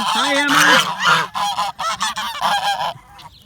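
Pet geese honk loudly at close range in a rapid run of harsh, nasal calls that overlap for about three seconds, then trail off.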